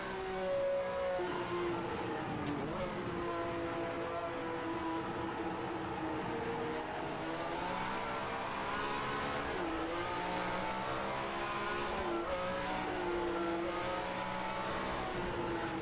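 In an online racing game set at Silverstone, 1967 Formula 1 cars roar steadily through the whole stretch, including a BRM with an H16 engine. Engine pitch climbs and drops with gear changes as the cars race close together.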